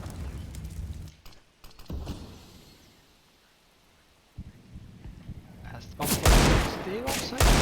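Rapid AK rifle bursts during a competitive Counter-Strike match, with loud clustered gunfire near the start and a dense, louder barrage toward the end, over a commentator's talk.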